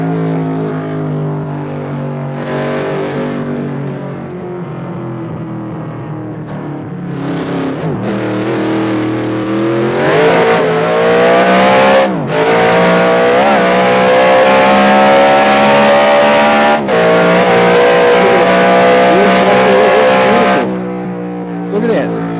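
A car with 3% front and rear downforce drives and accelerates, its engine droning loud and steady, the pitch rising in long sweeps over several seconds, with a voice talking over it.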